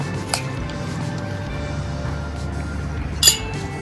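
A spoon clinks against a bowl while masala papad bhel is mixed, with two sharp bright taps, one near the start and a louder one near the end, over a soft background hum.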